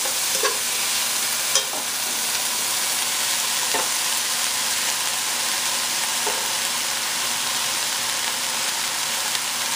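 Rice being stirred and fried in a pan, a continuous close sizzle with a few sharp scraping clicks from stirring, steady and moderately loud.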